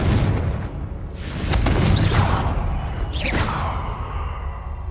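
Blasting spells go off in Hogwarts Legacy, two loud booming explosions with whooshing bursts about two seconds apart over a heavy, continuous low rumble.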